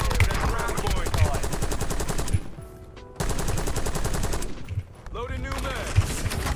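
Rapid automatic gunfire in the Warzone battle royale game, loud bursts repeating with a short silent gap in the middle and a brief lull near the end, with occasional talk.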